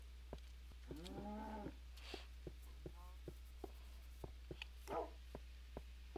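Wolf-like dogs in a blocky sandbox video game give two short whining barks amid regular soft clicking footsteps, faint and quiet.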